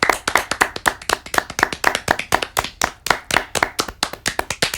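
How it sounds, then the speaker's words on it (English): Hand clapping for the NHS, a dense run of sharp overlapping claps that is loud and close, with no talking. "Let's all give a round of applause to the NHS"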